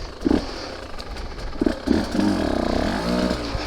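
A 2023 Husqvarna TE150 two-stroke dirt bike being ridden on a single track through a stream section, its engine popping and briefly revving in short bursts, with clattering and scraping, close by.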